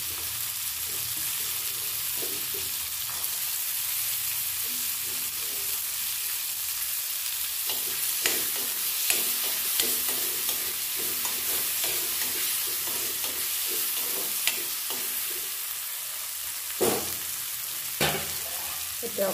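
Green peas fry and sizzle in a pan of spiced oil while making Maggi noodles. A steady close hiss runs throughout, with scattered clicks and scrapes of stirring and a few sharper pops near the end.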